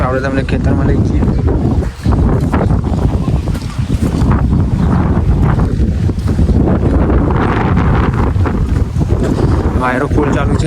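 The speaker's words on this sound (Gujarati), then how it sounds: "વાયરો ફૂલ ચાલુ છે, વાયરાનો અવાજ આવતો હશે તમને." Strong gusting wind sweeps across open farm fields ahead of unseasonal summer rain, roaring loudly and continuously into the microphone, with a voice talking faintly under the buffeting.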